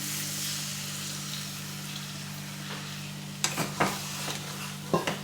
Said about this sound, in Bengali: এটা এবার কষিয়ে দেবে সামান্য একটু জল দিয়ে দিচ্ছি